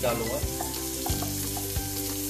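Finely chopped capsicum hitting onions already browned in a pan for Mumbai-style masala pav, giving a steady sizzle with a few sharp stirring scrapes, close and moderately loud, while someone speaks briefly.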